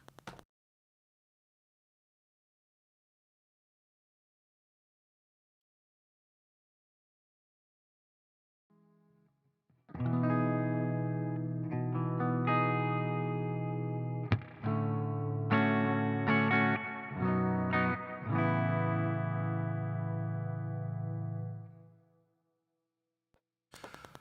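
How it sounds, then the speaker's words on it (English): Electric guitar played through a load box, effects and a cabinet impulse plugin, with distorted, effected tones starting after several seconds of near silence and sustaining loudly with a few sharp attacks before stopping abruptly. "that's me routing the guitar from the load box into the main plugin that I use for creating a cabinet impulse"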